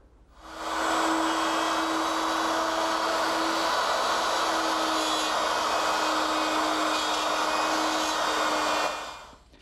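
A jig-mounted cutter or router cuts pins into the wooden side of a secretary desk, a steady loud whine held for about nine seconds, starting and stopping abruptly.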